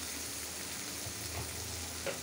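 Spices frying in a kadai, giving a steady, close sizzle throughout with a few faint stirring clicks and no voices.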